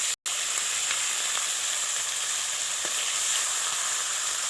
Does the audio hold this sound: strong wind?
no